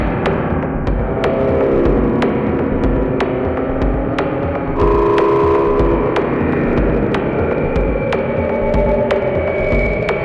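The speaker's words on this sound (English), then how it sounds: "We can just play the feedback and get these ghostly tones." Spring reverb feedback from a drum rings out as eerie sustained ghostly tones with a throbbing hum, struck by sharp regular clicks about every half second, loud and alone with no talk.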